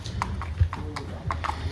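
A racehorse's hooves clip-clop at a walk on a hard surface on the way back to its stall, with a steady, moderately close beat.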